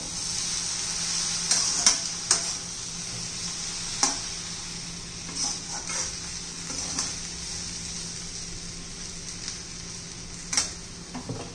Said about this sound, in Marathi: चांगलं 2-3 मिनिटं व्यवस्थित हलवून घेऊया।